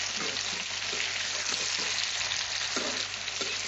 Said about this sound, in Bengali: টমেটোটা দিয়ে দিলাম, দিয়ে নেড়ে ছেড়ে কিছু ভালো মতো নাড়তে হবে